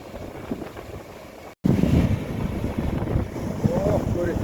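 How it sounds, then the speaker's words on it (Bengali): Ocean waves roll in at a beach in Mauritius as a steady, low surf roar, heavily buffeted by wind on the microphone, with a short break partway through and a louder stretch after it. "দেখেন কত সুন্দর তুফান আসতেছে তুফানের পরে তুফান"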